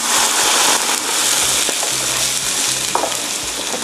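Shrimp and vegetables stir-fry in a pan with a loud, continuous sizzle, close by, while a utensil scrapes and clacks now and then as the food is tossed.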